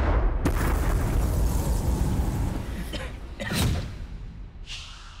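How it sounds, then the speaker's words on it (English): A violent explosion rips through a school bus and blows in all its glass as a film effect, a dense roaring blast with shattering debris, a sharp second crack and settling rattles. "the actual explosion as it blows all the glass in, is all for real."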